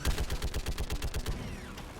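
Rapid burst of gunfire from a gas turret in the sci-fi shooter Mass Effect 3, a regular train of punchy shots loud and close, tailing off into a fizzing energy sweep.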